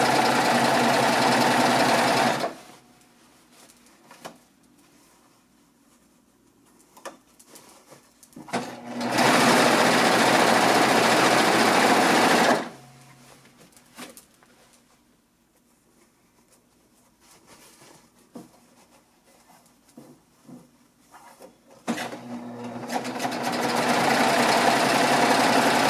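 A serger stitches the body of a pillowcase with piping, loud steady whirring bursts separated by quiet pauses where only faint handling of fabric is heard, close up and without talk.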